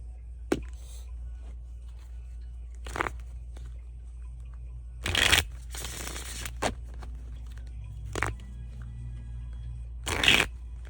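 Oracle cards from a Cosmic deck are shuffled in a few brief bursts of riffling and slapping, separated by quiet pauses over a low steady background hum.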